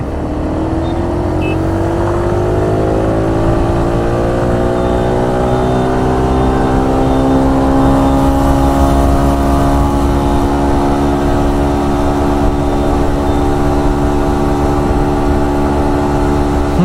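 A TVS XL 100 Heavy Duty moped with a centrifugal clutch runs at full throttle, its small engine a loud, continuous buzzing drone whose pitch climbs slowly and holds steady throughout.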